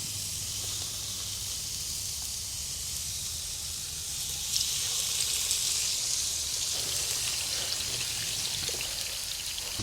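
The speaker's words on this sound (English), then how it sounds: "The important thing here is to sear the meat." Steak sears in a hot oiled pan with a dense, even sizzling hiss that swells louder midway and holds steady, crackling close by without any voices.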